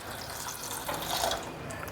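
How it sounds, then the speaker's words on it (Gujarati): Water from a glass is poured into a pressure cooker holding chopped drumstick pods, a soft gurgling splash that swells briefly in the middle, quiet and close. "એની સાથે જ આપણે 1 ગ્લાસ જેટલું પાણી ઉમેરશું"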